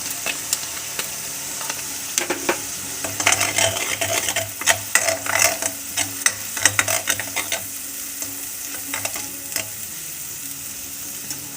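Cumin and coriander paste fries in a pan for a dried fish curry with mustard. A steady sizzle runs underneath while a spoon stirs and scrapes in quick, irregular bursts.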